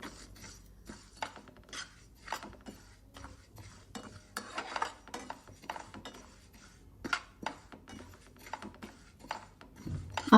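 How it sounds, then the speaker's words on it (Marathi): Fennel seeds dry-roasting in a pan on a gas stove, stirred with a spoon that gives sparse light scraping clicks and soft rattles over a quiet background. "आता आपण ही बडीशोप तव्यावर गरम करून घेणार आहोत।"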